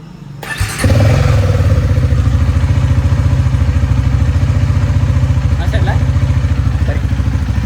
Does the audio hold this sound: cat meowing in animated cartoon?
no